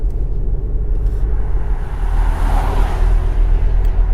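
Porsche Macan SUV with a 2-litre engine driving, a steady low engine and road rumble that holds evenly throughout at moderate loudness, with no voices over it.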